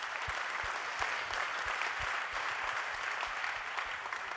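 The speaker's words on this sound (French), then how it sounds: "Tuvalu, applaudissements" An audience at an evening launch event for The Arch 2022-2023 session gives steady, moderately loud applause throughout, with low thumps from a few heavy claps.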